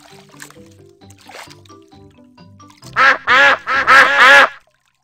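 Cartoon ducks in a Peppa Pig video game give four loud, close, evenly spaced quacks, coming right after a stretch of soft splashy, bubbly game sounds.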